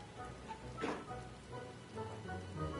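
Soft, steady rain falls in Final Fantasy XIV, a faint, even hiss with no voices.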